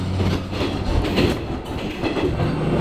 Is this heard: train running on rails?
yes